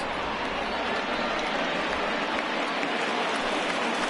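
A steady roar of a stadium crowd of over 27,000 rising to their feet in the MLB The Show 20 baseball video game, a dense, continuous wash of cheering and applause at even loudness throughout.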